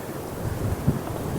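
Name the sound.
wind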